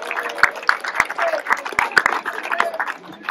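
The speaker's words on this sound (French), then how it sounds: "Elle est là, Marine, on l'applaudit bien fort." Audience at a school slam poetry tournament applauding a jury member, a dense wash of many hands clapping with sharp individual claps standing out, steady and fairly close.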